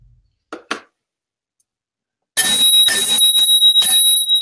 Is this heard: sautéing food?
no